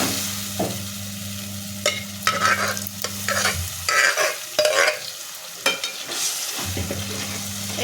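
Cooked wild greens are stir-fried in a pan, with irregular bursts of spatula scraping and tossing over a steady sizzle and a low steady hum that drops out midway. No one speaks.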